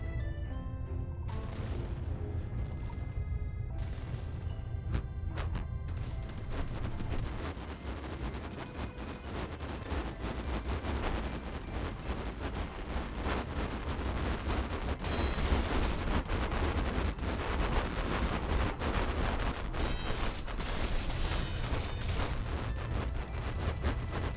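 Enemy guns in an action video game fire in dense, rapid bursts, with cracks, booms and crashes piling up over a constant rumble for the whole stretch, loud and relentless.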